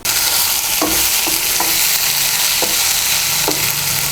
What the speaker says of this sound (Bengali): রসুনগুলোকে লাল করে ভেজে নেব